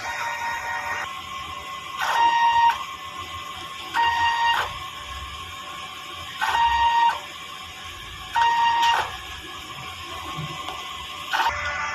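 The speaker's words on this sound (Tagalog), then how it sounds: "ganito naman mag-head clean." A DTF printer runs a print head cleaning cycle, giving five evenly spaced bursts of whirring mechanical motion, each topped by a short electronic tone, separated by quieter hum over about twelve seconds.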